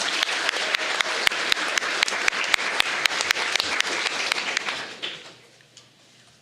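Applause at a county board of education meeting honoring novice Teachers of the Year, a steady mass of clapping with sharp individual claps, holding for about five seconds and then fading to a quiet room.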